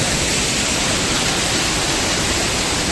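Water rushing at Madaka Waterfalls in Bajpe, a loud, dense, unbroken roar of falling water that stays constant throughout, with no voices over it.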